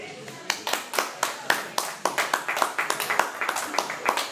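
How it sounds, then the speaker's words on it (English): Sparse clapping from a studio audience at a comedy talk show taping, a scattering of distinct sharp claps rather than a full ovation, close and moderately loud, with some voices mixed in. "Applause."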